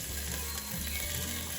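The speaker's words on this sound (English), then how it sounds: "pour that stuff on top of your chili, garlic, and onion mixture. Just listen to that sizzle." Steady crackling sizzle of hot oil poured over a chili, garlic and onion mixture, dense and close, with a low rhythmic mechanical rumble underneath.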